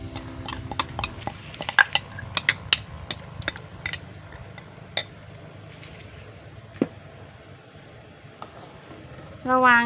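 Repeated clinks and scrapes of a utensil stirring soaked sticky rice in a pot of boiling water, irregular metallic knocks over a low bubbling background, with a brief louder clatter at the end.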